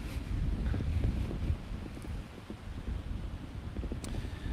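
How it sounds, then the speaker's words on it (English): Steady wind buffeting a microphone outdoors near the water, a low rumbling roar that holds throughout, with no one speaking. "It is windy,"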